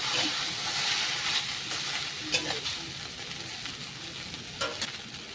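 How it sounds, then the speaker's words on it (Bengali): Atta-flour chowmein noodles are lightly fried and stirred in a pan, giving a steady close sizzle with a few sharp utensil scrapes and clinks over it. "একটুখানি নাড়িয়ে চাড়িয়ে ভেজে নেব অনেক বেশি না অল্প একটু ভেজে নিতে হবে"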